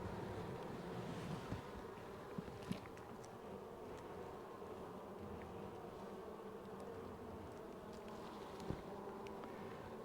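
Honey bees buzzing in an open hive during a July inspection, a dense, steady hum surrounding the listener, with occasional faint knocks.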